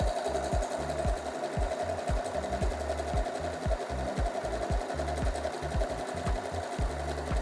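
An Usha Janome Sew Magic sewing machine stitches a dense satin stitch design, a fast even mechanical chatter of needle strokes with a steady motor whine, close and continuous.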